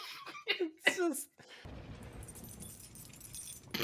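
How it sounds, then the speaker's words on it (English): Keys jangle and jingle in a few quick bursts close by, followed by a steady low rumble with no voices. "He's like, jingle, jingle, jingle, jingle. Found my keys."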